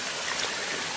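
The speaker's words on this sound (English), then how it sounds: "you can see nice oxygenated run coming down through cold mountain water" A cold mountain brook trout stream rushes steadily over rocks in a close, dense, even hiss of flowing water with no voices.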